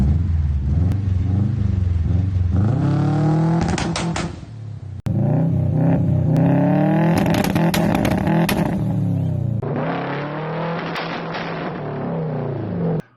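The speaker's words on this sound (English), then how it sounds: "Let's listen to some of my old videos of my car bouncing on two-step and compare the differences between muffled with a Canon and no exhaust" A car's engine bounces on a two-step rev limiter, heard in loud, close, separate runs through a Canon muffler and with no exhaust. Each run gives rapid, stuttering revs cut by short breaks.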